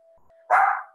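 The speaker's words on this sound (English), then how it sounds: "Pardon the dog." Single close, loud dog bark in a quiet indoor room, a short full-bodied woof that rises abruptly and fades over about half a second, preceded by a faint steady hum.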